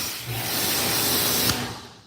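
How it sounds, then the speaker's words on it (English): Steady hiss of water spraying across a car window treated with a touchless spray sealant during a rinse, close and continuous for about two seconds with a small splash near the end. "I'm gonna show you what it looks like as I rinse."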